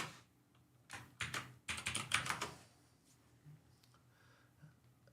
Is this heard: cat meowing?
no